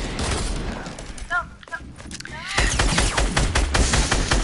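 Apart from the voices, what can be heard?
gunfire from a video game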